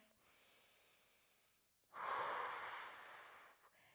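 Two long breaths close to the mic during a reformer Pilates workout, a softer one first and then a louder, forceful exhale after a brief pause, with no talking.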